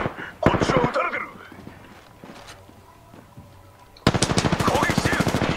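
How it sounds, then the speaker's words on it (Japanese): Gunfire from the video game Apex Legends, with bursts of rapid rattling shots near the start and a louder sustained volley at the end, separated by a quieter stretch. "よう、こっちは撃たれてる。"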